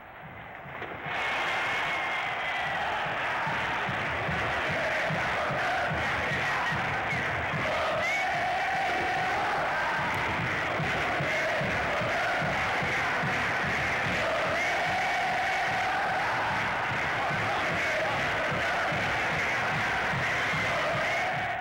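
A large football crowd of fans roars in a sustained wave of cheering after a shot strikes the goalpost, dense and continuous throughout with no clear break.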